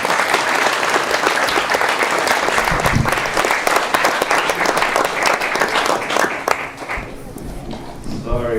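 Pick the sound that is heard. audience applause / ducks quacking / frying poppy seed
audience applause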